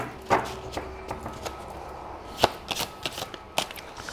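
A tarot card deck being shuffled: soft, irregular papery riffles and taps, close and fairly quiet, with no voices.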